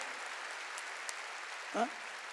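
A church congregation claps harder at the pastor's urging, a steady wash of applause with a brief voice cutting in near the end.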